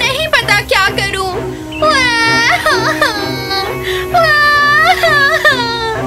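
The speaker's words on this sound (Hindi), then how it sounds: "उसने किसी के रोने की आवाज सुनी" An animated girl's crying in a Hindi cartoon retelling of Anne of Green Gables, close, loud wailing sobs with rising and falling pitch, broken by short gasping breaths.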